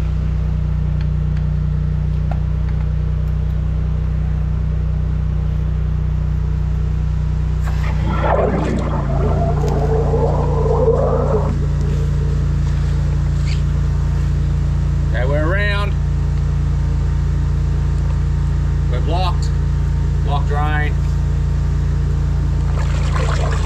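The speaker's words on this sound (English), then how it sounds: "Let's fire up the jetter and see if we can get this cleared." A drain jetter runs to clear a blocked drain, its engine droning in a heavy, constant low hum close by while water gushes and splashes, and people speak briefly over it.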